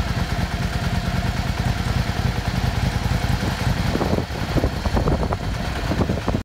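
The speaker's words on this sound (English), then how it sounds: "So I'm going to just very carefully roll off idle." Yamaha Star 650 motorcycle engine, just after a carburetor clean, ticking over and then rolled gently off idle, a steady close mechanical chug with a clattering pulse that quickens slightly in the later seconds before cutting off.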